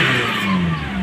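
A car engine fitted with an HHO kit revs steadily up close, a loud sustained mid-pitched drone with a slight rise in pitch, no voices over it.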